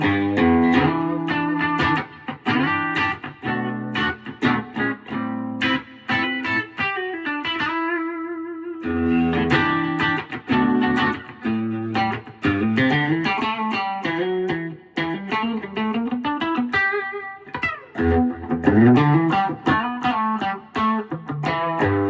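Godin Summit Classic CT goldtop electric guitar on its P90 bridge pickup with active electronics, playing a continuous riff of picked notes and chords with a crisp, slightly driven tone and a brief sustained ring in the middle.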